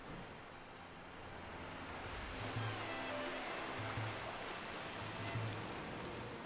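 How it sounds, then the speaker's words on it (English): A waterfall in the Pokemon Violet video game rushes as a steady, fairly faint broadband roar, with no voices over it. "Waterfall. What an appropriate place to put it."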